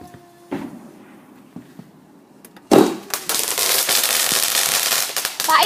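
Fireworks go off at a bonfire night gathering: a few faint pops, then one loud close bang followed by several seconds of dense, continuous crackling and fizzing.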